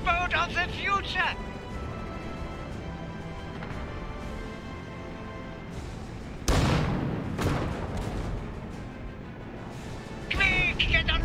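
Loud booming cannon blasts in the video game Iron Harvest 1920+, one burst around the middle and another near the end, over a busy backdrop of music and voices.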